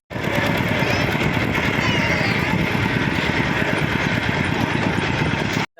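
A farm tractor engine idles close by in rural Laos, a loud, steady, rough mechanical rumble with fast chugging pulses that runs unbroken for over five seconds before cutting off abruptly.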